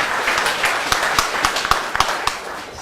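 Applause from an audience at a media event with a Punjabi singer: a steady wash of many hands clapping, fairly loud and close, with sharper individual claps standing out through the crowd noise.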